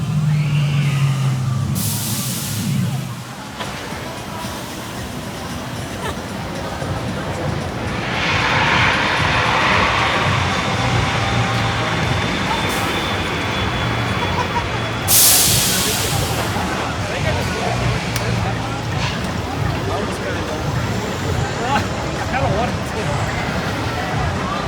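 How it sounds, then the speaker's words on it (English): Top Thrill Dragster launch and rollback at Cedar Point in 2018, a loud continuous rushing roar with broad hissing bursts over a busy crowd murmur, lasting throughout. "You guys just witnessed the rollback right here on Top Thrill Dragster."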